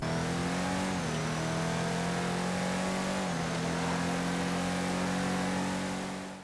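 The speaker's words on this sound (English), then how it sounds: "Startup is super loud, super unique, raspy, like all the ways you can describe an exhaust sound is all in one here." Drift Camper from GTA Online starting up, its exhaust loud and raspy, with a steady droning engine tone that briefly dips and recovers twice while it idles and revs, close and continuous with no talk.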